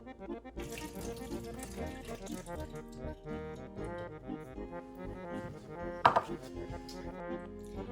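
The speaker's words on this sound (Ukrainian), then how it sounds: "Тепер я зливаю з е, сухофруктів воду." Water from soaked dried fruit is poured off in a home kitchen during cheesecake preparation, a light running trickle with a brief louder splash, heard faintly beneath background music.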